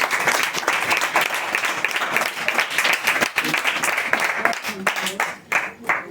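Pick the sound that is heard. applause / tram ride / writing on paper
applause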